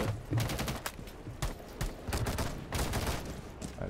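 Rapid gunfire in a shooter video game, dense bursts of automatic shots and single cracks in quick succession, loud and continuous across the clip with no talking.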